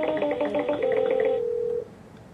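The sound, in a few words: Polycom conference phone dialing tones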